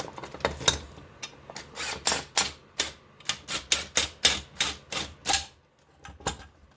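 A Mac brand universal puller being worked on an engine crankshaft, with a rapid series of sharp metallic clicks and ratcheting taps in an uneven rhythm, close and distinct, with no speech.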